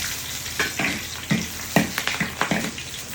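Scallions hit hot oil in a wok for scallion oil, giving a dense, bright sizzle with repeated sharp crackles and pops, close and loud with no talk.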